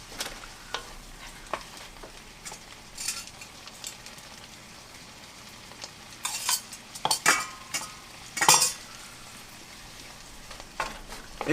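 Onions seasoned with salt and pepper sizzle steadily in a pan over medium-high heat, with a few sharp clinks and scrapes of a utensil stirring them, quiet and close without speech.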